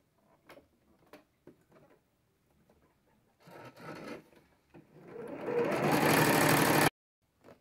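A sewing machine stitches a fabric fish-shaped pencil case, starting with a few scattered ticks and short whirring bursts, then running steadily and loudly for about two seconds before stopping abruptly.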